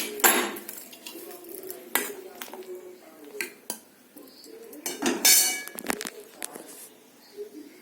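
Fish curry ladled from a kadai wok into a cooking pot in a home kitchen, with irregular metallic clanks and scrapes of utensil against metal, several sharp knocks spread over a few seconds, close and fairly loud.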